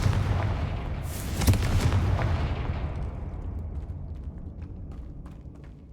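A Confringo blasting spell from a Harry Potter video game bursts into a loud, booming explosion that rumbles and slowly fades over several seconds, with no talking.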